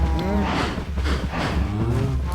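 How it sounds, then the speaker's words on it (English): Several cows in a video game moo together in a steady chorus, close and fairly loud, with overlapping low calls filling the whole stretch. "There's just so many cows."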